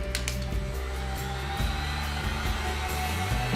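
A small electric blower fan runs as a steady mid-pitched whir aimed at the base of lit charcoal coals for a pig spit roast, with faint crackles and soft knocks close by.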